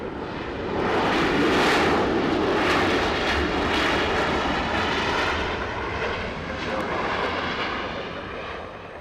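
Southwest airliner landing at Los Angeles airport, with a loud, broad jet engine roar that swells and fades slowly as the plane passes nearby, no voices.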